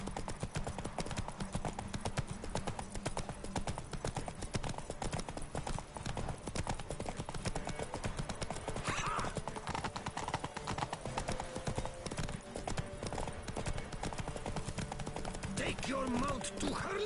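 Roach, the horse from The Witcher 3, gallops in a race: dense, rapid hoofbeats drum continuously and loudly throughout, with faint voices and game ambience underneath.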